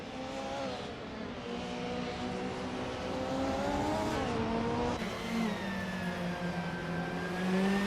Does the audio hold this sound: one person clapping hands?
no